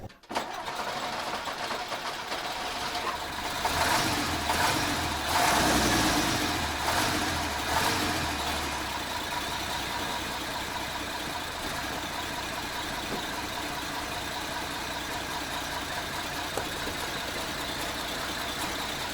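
The engine of a Praga all-terrain vehicle, fitted with Uragan wheels and running in low range with one tyre flat, starts and runs steadily. Its nearby rumble swells as the vehicle is driven back and forth, then settles into an even idle.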